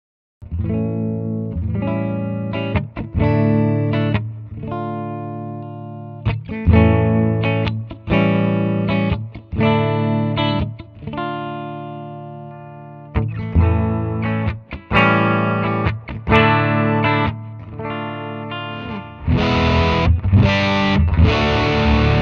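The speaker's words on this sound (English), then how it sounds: "let's cycle through the pickups. We'll get some clean tones, get some dirty tones." Electric guitar played alone through its different pickups, heavy effects, chords and riffs shifting in tone between sections from thicker distorted passages to brighter, thinner clean ones.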